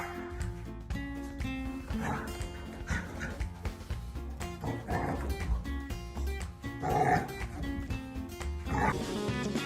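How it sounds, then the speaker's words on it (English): A pet dog barks and whimpers to signal it wants to go play outside, the calls mixed into a loud, steady bed of music throughout. "Long time no play outside and his dog started to signal."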